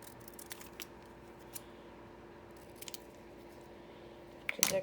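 Scissors fussy-cut a small green book shape from paper, a string of soft close snips that gives way to a louder burst of rustling handling at the end, no speech.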